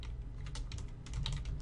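Rapid typing on a computer keyboard while coding a Minecraft Bukkit plugin, a quick close run of irregular key clicks with no talking.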